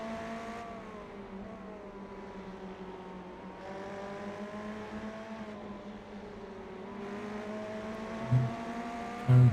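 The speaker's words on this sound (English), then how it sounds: "you can hear the number 8 car right on our heels again" GT3 race car engines in the iRacing simulator at Hockenheimring whine steadily, with pitch rising through gear changes and dropping at shifts, a rival car close behind, plus a couple of brief thumps near the end.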